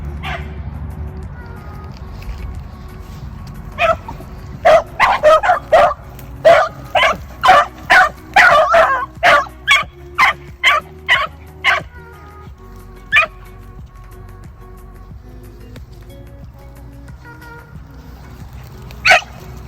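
Hunting dogs chasing rabbits on a rainy day give a burst of repeated sharp barks and yips, loud and close, clustered mid-clip before trailing off into quiet with one late bark.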